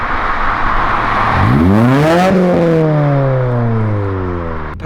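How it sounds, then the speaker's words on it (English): A 1.8L Mazda Miata with an aftermarket angled exhaust revs up and passes close by, its exhaust note rising loudly then falling away as the car moves off. "How does that exhaust sound compared to the red one?"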